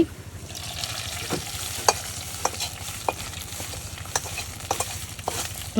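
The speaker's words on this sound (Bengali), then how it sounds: "পেঁয়াজ রসুন গুলা টালা হয়ে গেছে সুন্দর করে বাদামি করে ভেজে নিয়েছি" Onion and garlic frying in hot oil, stirred with a utensil: a steady close sizzle runs throughout, punctuated by a string of sharp scraping clicks at an irregular rhythm, with no voices.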